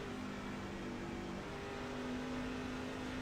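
A race truck engine in a sim racing game at Charlotte Motor Speedway hums steadily at moderate level, its droning pitch shifting slightly as the throttle eases, with no voices.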